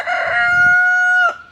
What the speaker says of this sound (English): These are our chickens. My Rhode Island Reds, they are over 2 years old